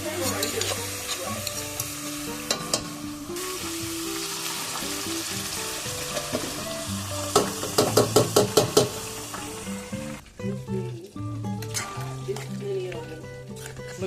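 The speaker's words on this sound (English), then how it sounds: "the ground beef is cooking for the beans" Ground beef frying in a pan for baked beans gives a steady close sizzle with stirring scrapes, under background music with a sharp burst of clatter midway.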